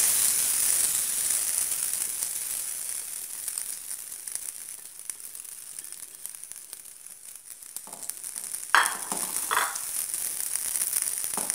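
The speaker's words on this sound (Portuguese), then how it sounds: "Em uma frigideira, uma colher rasa de margarina." Margarine frying in a frying pan gives a steady, soft sizzling hiss throughout, with a few crackles and small clicks near the end and no talk.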